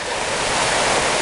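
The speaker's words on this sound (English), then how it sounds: "You can hear the creek just off in the background here." Creek water flowing steadily near Naramata Creek Falls on a family hike, a continuous broadband rush with no breaks, fairly close and loud, no voices.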